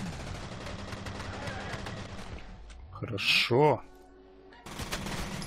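Gunfire in the first-person shooter F.E.A.R. 2, a burst of shots with game effects in the middle of the stretch, set against a busy in-game soundscape, with someone briefly speaking.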